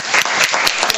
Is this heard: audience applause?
yes